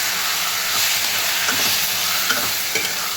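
Ridge gourd and okra curry stir-fried in a pan, with a loud, steady sizzle and occasional scrapes of stirring, close up and with no talking.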